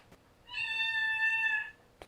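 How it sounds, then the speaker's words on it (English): A single clear cat meow indoors after the animal comes in through a window, a steady harmonic cry lasting about a second in an otherwise quiet room. "The cat just came in through my window."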